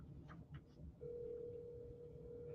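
A telephone call being placed during a late-night livestream: faint clicks and tones give way to a steady, low-pitched ringback tone that holds continuously, quiet and slightly distant over a murmur of background noise.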